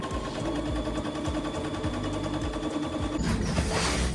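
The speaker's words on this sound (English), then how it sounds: "I'm gonna set my machine to the biggest stitch length available, and then I'll add a seam around here" A sewing machine runs a long basting stitch along a denim sleeve cuff, its steady mechanical whir and fast needle chatter continuous and close throughout, with a brief scraping rustle of fabric near the end.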